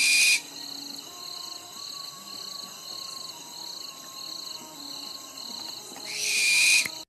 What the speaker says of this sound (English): That is the sound of a common barn owl.